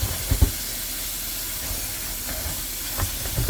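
Cut red and green peppers for Spanish sofrito are rinsed under running water, a steady broad hiss of flowing water with a few soft thuds and knocks.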